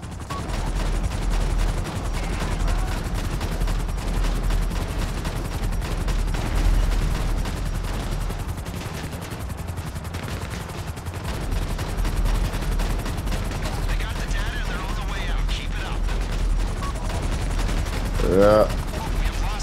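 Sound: gunfire in GTA 5 Online, video game

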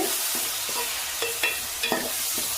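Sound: tomatoes sautéing in a pan for mutton curry

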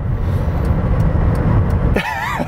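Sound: 2002 Hyundai six-cylinder car accelerating at full throttle

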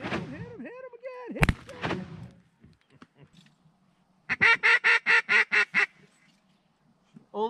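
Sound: shotgun fire while duck hunting

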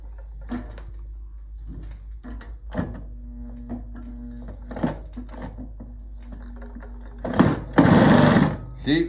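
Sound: Juki or Consew industrial sewing machine stitching

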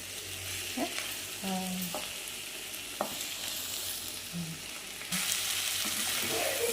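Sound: broad beans and brinjal cooking in oil

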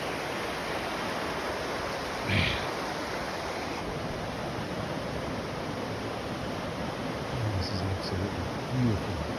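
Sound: rushing water of Brice Creek

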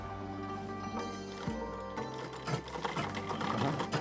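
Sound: sewing machine running

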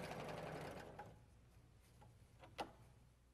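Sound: Huskylock 936 serger sewing

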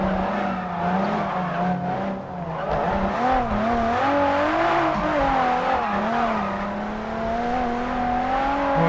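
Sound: Toyota AE86 car racing in a video game

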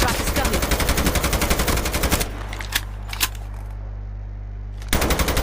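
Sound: gunfire in the video game Call of Duty Mobile

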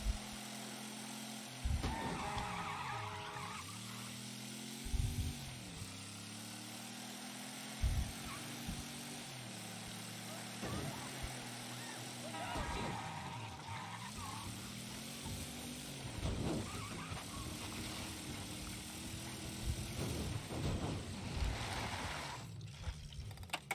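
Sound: car driving in video game Mafia III

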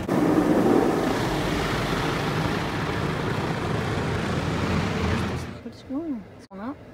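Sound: high-pressure water spray at car wash

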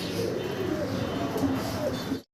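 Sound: pigeons cooing

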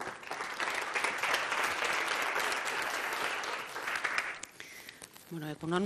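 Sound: audience applause for Vanessa Baliño

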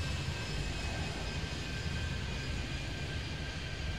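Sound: airplane landing on runway in video game Airport Madness 3D

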